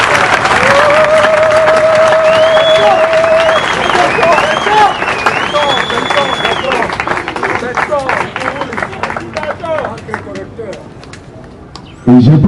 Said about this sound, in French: Applaudissez très fort pour le chef de l'État.